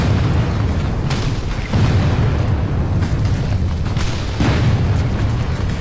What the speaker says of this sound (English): Bullets and shells fly in all directions.